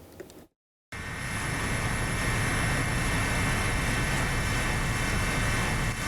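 Steady, loud rotor and engine roar of a helicopter flying over a disaster area in Nagan Raya, Aceh, with broken bridges and destroyed houses below. The noise fills the whole clip after a brief cut to silence, with no talk.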